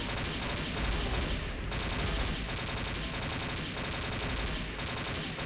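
Rapid shotgun fire from a Next Gen shotgun in the video game XShot: a steady run of loud, heavy blasts in quick succession with almost no pause, dense and relentless throughout.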